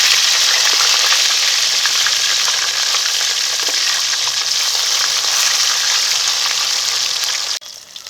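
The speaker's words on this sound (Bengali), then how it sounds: "মাছটা একদম লাল লাল কড়া করে ভেজে নিয়েছি" A big lailontika fish fries in oil until deep red and crisp, giving a dense, constant sizzle heard up close, with faint stirring under it, until it drops away suddenly near the end.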